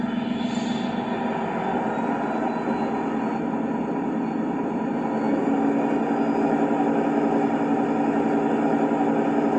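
An LGB 2095 model locomotive fitted with a Zimo sound decoder throttles up, its steady diesel-like engine drone swelling slightly louder partway through and continuing alone.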